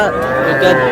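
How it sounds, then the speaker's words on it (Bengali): A young Sahiwal bull calf at a cattle market gives a single close, loud, drawn-out moo lasting about a second. "দুটাই ষাঁড় বাচ্চা।"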